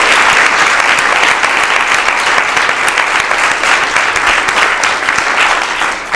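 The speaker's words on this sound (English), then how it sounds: "I just think they deserve a big round of applause." Audience at a Women in Technology event during Galway's AtlanTec Festival gives loud, sustained applause, dense clapping continuing steadily for about six seconds before easing slightly at the end.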